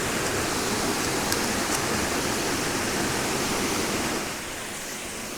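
A waterfall roars with a dense, steady rush of falling water close by, easing slightly in volume near the end.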